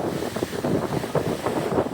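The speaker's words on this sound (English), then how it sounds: "It's windy, heck." Strong gusty wind at a beach with soft sand buffets the microphone in rough, rumbling bursts, loud and constant, with no voices.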